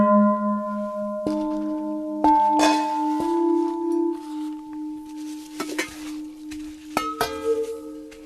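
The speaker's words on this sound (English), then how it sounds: "If we hit them this way, they sound like beautiful bells, and they ring really a long time." Several brass and stainless steel tubes are struck one after another, each giving a clear bell-like tone that rings on and overlaps with the others, with faint taps between strikes.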